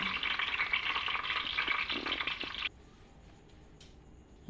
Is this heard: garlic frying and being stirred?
yes